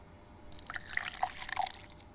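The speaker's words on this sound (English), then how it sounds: "Pour substance into stasis chamber funnel" Substance poured into a stasis chamber funnel in the Creature Lab video game, a brief bright liquid trickle with dripping, bubbly plinks, fairly close and quiet, starting after a moment of silence.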